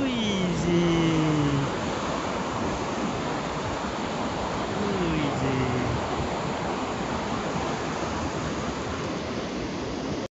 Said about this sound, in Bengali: এদিকে থেকে পানি আসতেছে, বাট শব্দ পাচ্ছি, পানিটা দেখতে পাচ্ছি না